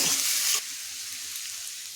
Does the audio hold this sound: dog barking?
no